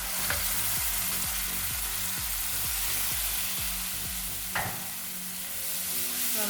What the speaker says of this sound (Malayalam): ഇനി നമുക്കിതിലേക്ക് നമ്മുടെ ടൊമാറ്റോ പ്യൂരീനെ ഒഴിച്ചു കൊടുക്കാം